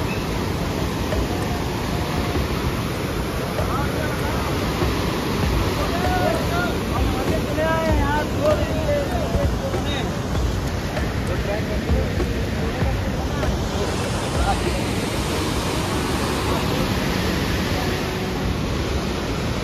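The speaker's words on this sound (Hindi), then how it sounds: "आज पानी का वेग कुछ ज़्यादा ही है बारिश होने से" A fast river at Kedarnath, swollen and running high after rain, roars as a constant broad rushing wash that fills the whole stretch at a steady, fairly loud level.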